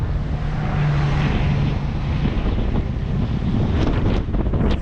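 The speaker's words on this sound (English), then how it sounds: "It's very windy today" Strong wind roars across a microphone in a Chinese garden in Malta, a continuous loud rushing buffet that swells and gusts throughout with no talking.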